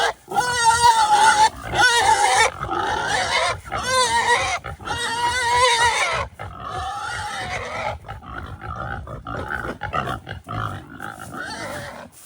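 Pigs grunt and oink loudly and close by in quick, overlapping bursts, a noisy chorus with brief pauses between squeals.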